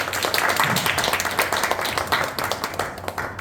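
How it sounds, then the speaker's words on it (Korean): A church lecture audience claps to welcome a pastor, loud close clapping from many hands with distinct individual claps audible, continuing steadily and easing slightly toward the end. "큰 박수로 맞이해 주시기 바랍니다"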